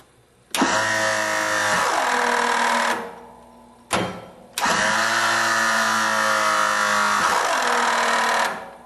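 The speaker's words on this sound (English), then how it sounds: "So now we have our new motor installed. We're going to see what the motor amp draw is at full angle." The hydraulic pump motor of a Meyer E-60 snow plow runs under load in two loud, steady whirring bursts, each straining at a constant pitch and stopping abruptly, with a short pause between them.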